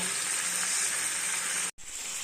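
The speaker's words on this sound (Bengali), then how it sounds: "আমি আলু ভাজাটা চাপিয়ে দিয়েছি সরষের তেলেই কিন্তু ভাজা করছি আলুটা" Potatoes frying in mustard oil in a home kitchen, a steady loud sizzle that runs continuously, cuts out briefly near the end, then resumes.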